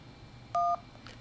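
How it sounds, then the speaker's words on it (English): A single short, steady DTMF dual-tone beep sent by a Yaesu FT-60 handheld radio, clear but not loud against faint background hiss. "You hear the dtmf tone?"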